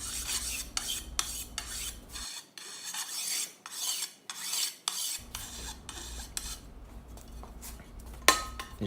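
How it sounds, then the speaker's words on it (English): Hand file rasping along the edges and chamfering the holes of a workpiece, with repeated short strokes in an uneven rhythm, close and fairly loud, and a sharper metallic clink near the end. "you're just filing the edges and chamfering the holes in the part"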